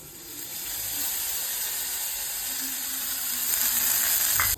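Cumin, asafoetida and garlic fry in hot oil with a steady, close sizzle and hiss that holds throughout.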